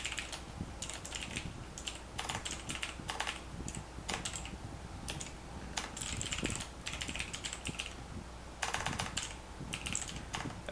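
Steady typing on a computer keyboard, a continuous run of close, crisp key clicks with brief pauses and bursts, no voices.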